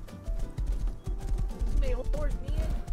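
Horses in a video game clopping in a busy rhythmic patter of hooves, with a whinny rising partway through, fairly close and loud, while a person talks over them.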